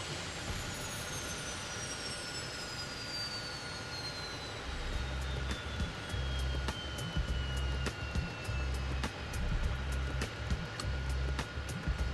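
A jet airliner lands on runway 19 left at a Washington airport in the World of Airports 3.0 game: a steady descending engine whine with a low rumble that swells halfway through and continues without talk.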